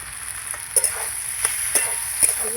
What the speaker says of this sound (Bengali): আবার একটু কষিয়ে নিচ্ছি